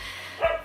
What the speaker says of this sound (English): sorry if you could hear my dog barking in the background